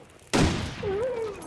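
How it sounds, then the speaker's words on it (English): A single sharp rifle shot in the survival video game The Long Dark cracks loudly, then rings into a decaying echo with a faint wavering tone trailing after it. "it's much harder to shoot them with the rifle"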